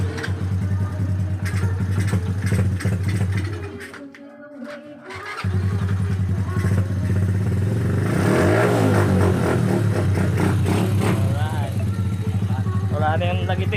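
Overhauled Honda Wave 100 motorcycle engine running nearby after a rebuild, a steady low idle with brief revs and a dip around the middle, mechanical clatter over it and voices talking at points.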